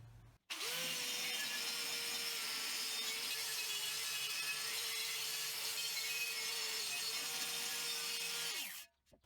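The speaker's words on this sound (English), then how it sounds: "I started wire buffing the propane tank, and that was taking forever to get that paint off" A power tool with a wire buffing wheel strips paint from a propane tank. It spins up abruptly, holds a steady, loud whirring grind for about eight seconds, then winds down and stops.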